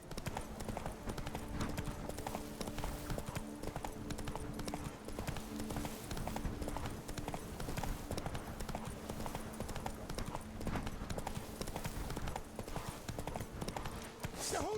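Hooves of Roach, a horse in The Witcher 3, clip-clop steadily at a trot throughout, close and prominent over a low game soundscape with some quiet talk.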